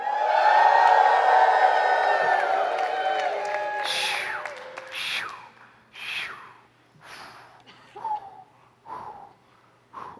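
A church congregation at a Sunday service screams and cheers in a sustained loud roar of mixed voices that fades into scattered whoops and shouts.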